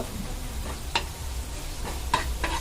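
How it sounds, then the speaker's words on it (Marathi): Leftover chicken curry cooks in a pan while coriander powder is stirred in, giving a low steady frying sizzle with a few scattered scraping clicks of the spoon against the pan. "धने पावडर टाकून पुन्हा एकदा आपण मिक्स करून घ्यायचं"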